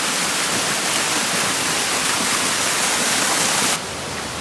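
Steady, dense rush of falling water from the Grenjengan waterfall at Pacet, Mojokerto, in the rainy season with a low flow, loud and close, running continuously before dropping slightly quieter near the end.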